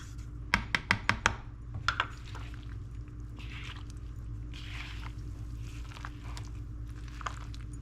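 Chicken pieces tossed by hand in flour for homemade orange chicken: a quick run of five or six sharp close taps and squelches at the start, then soft intermittent squishing and rustling over a steady low hum, with no talking.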